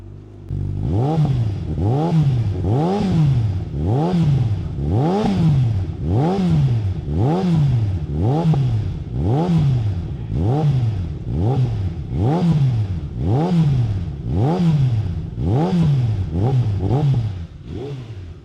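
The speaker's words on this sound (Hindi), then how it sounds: "तो मैंने सोचा कि इसी वीडियो के अंदर आपको स्लिप-ऑन की भी साउंड चेक कराते हैं" A Ducati motorcycle fitted with a long titanium slip-on exhaust revs again and again in a steady rhythm, each loud blip rising and falling, close by and alone with no talk.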